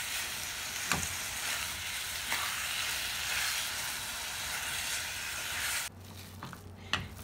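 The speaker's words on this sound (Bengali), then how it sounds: "এবার এটাকে আমি অনবরত নাড়িয়ে একটু শুকিয়ে নেব।" Kheer sandesh with patali jaggery is stirred continuously in a pan over a low flame, a steady close hiss and sizzle with occasional spoon scrapes before the sizzle cuts out near the end.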